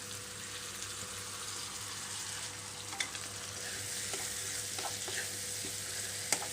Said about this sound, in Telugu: కట్ చేసి పెట్టుకుని టమాటా ముక్కలు వేసేస్తున్నాను